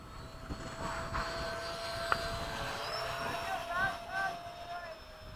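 Freewing 70mm F-35 RC jet taking off, its steady ducted-fan whine rising in pitch as it spools up, heard from nearby with outdoor wind noise and people talking over it.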